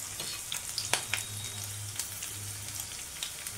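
Onion, split green chillies, carrot, chana dal and urad dal frying in a pan while being stirred: a steady close sizzle with scattered sharp scrapes and clicks of the spoon, and a low hum underneath. No talking.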